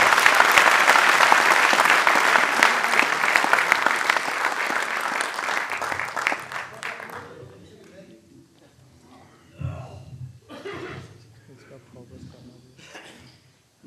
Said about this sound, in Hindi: आइए एक बार मिलकर तालियां बजाएं,